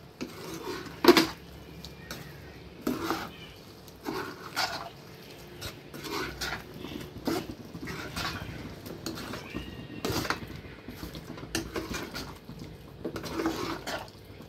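Aviyal, a vegetable dish with curd, being stirred in a cooking pot, giving repeated scraping and clinking spoon strokes in an irregular rhythm at close range, with no talking.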